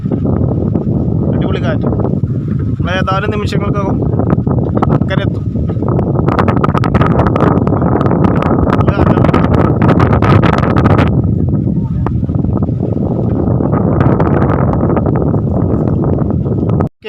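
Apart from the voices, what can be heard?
strong wind on a boat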